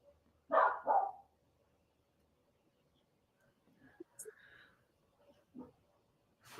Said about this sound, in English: you can hear my dog, who is the sweetest, most gentle golden doodle